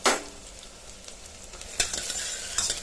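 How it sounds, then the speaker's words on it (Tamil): Chopped onions sauté for biryani in a pan, a continuous close sizzle broken by a spoon's scraping strokes and a few clinks against the metal, with no one talking. "கட் பண்ணி வச்சுருக்க ஆனியனை போட்டு நல்லா கொஞ்சம் வதக்கணும்"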